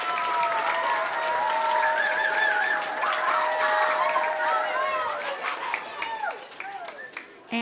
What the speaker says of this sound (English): So give all of those administrators and teachers a big round of applause too